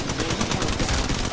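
Gunshots in Apex Legends Mobile, a dense rapid burst of automatic fire rattling continuously and loudly from start to finish, no talk.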